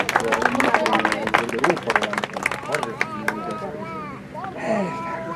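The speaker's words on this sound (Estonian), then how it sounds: "Aplaus noortele triatlonistidele." Scattered applause for young triathletes at a Haapsalu triathlon award ceremony outdoors, sharp individual claps over crowd chatter and voices, thinning out as people talk in the latter half.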